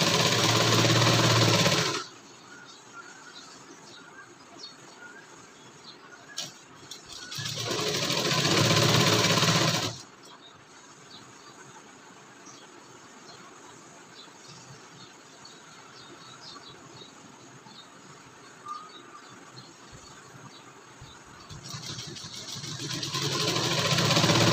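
Sewing machine stitching a shawl collar blouse with fabric laid over fabric: loud close motor whirring in two bursts near the start and a third rising at the end, with quiet gaps between.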